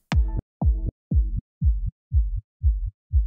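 A low-passed sub bass kick drum with everything above about 80 to 100 Hz cut, repeating as seven deep, booming thumps at an even pace, each starting with a brief attack that softens over the sequence, heard alone and loud.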